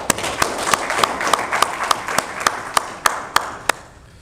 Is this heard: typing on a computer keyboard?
no